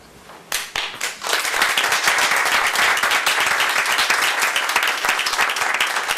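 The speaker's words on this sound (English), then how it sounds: "Now you give a round of applause, Rick." A crowd at a school board meeting breaks into sustained applause, starting with a few scattered claps and quickly swelling into steady, dense clapping that continues throughout.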